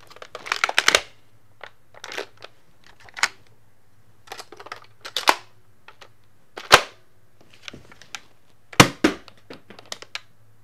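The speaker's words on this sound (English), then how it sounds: "That just shot 3 darts." Nerf Sledgefire blaster handled and fired, with a few sharp, close pops and clacks of the mechanism scattered among quieter clicks and rattles.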